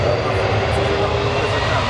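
A jet airliner taking off at night at Lisbon airport, a loud steady engine roar with a sustained whine, continuous and close throughout.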